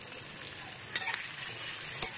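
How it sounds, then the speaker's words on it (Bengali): Baby corn stirred and fried with spice paste in a pan, a continuous close sizzle broken by a few quick scraping and clinking spatula strokes. "এবার এটা একটু নাড়িয়ে ভাজা ভাজা করে নেবো।"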